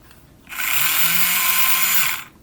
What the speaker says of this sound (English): I think we should be able to sand that fairly evenly